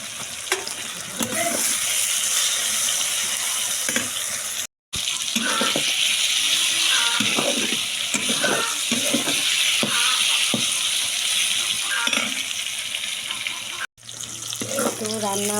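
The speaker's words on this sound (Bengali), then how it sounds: "তো পটলগুলো ভাজা হয়ে এসেছে" Chopped pointed gourd (potol) fries in oil in a home kitchen pan, giving a continuous close sizzle broken by stirring scrapes, with a voice now and then over it.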